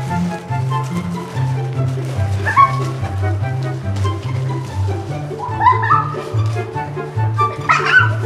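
A dog barks and yips repeatedly at an indestructible Vac-Man toy, close and loud in a steady string of sharp woofs with a few whimpery squeals, with no talk.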